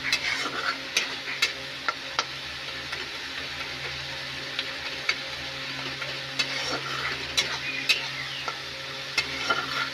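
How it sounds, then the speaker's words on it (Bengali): Turmeric, chilli, cumin and coriander powders with salt sizzle steadily in a pan as the spice paste is fried, with repeated sharp ticks and scrapes of stirring over an even frying hiss, no talk. "এরপর হলুদ, লঙ্কার গুঁড়ো, জিরা গুঁড়ো, ধনে গুঁড়ো এবং স্বাদমতো লবণ দিয়ে মশলাটি ভালোভাবে কষে নিন"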